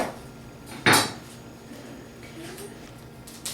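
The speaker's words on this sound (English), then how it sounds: "we're going to get right on in there with our knife, okay? We're going to cut the bottom of it off" A knife cuts the base off a broccoflower on a board, giving one sharp, loud chop near the start, followed by quieter faint handling noises.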